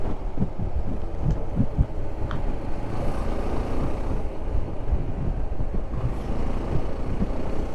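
A car drives along and makes a turn, its engine and road rumble held steady and close throughout, with no one speaking.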